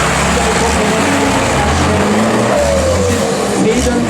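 Unimog off-road rally race trucks roaring past on a 4x4 course, a loud, continuous engine drone with rising and falling revs, unbroken for the whole stretch.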